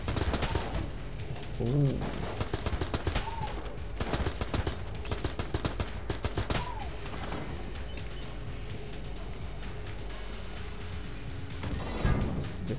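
AK assault rifle fire in the Enter the Gungeon video game, with rapid bursts of shots and crashing impacts packed into the first half, then thinning out, while a man lets out a brief exclamation.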